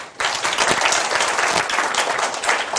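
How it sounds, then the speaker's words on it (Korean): Dense group applause from a classroom audience during a design course session, loud and steady, filling the whole stretch right after a brief quiet start. "10조 박수 한번 쳐주세요."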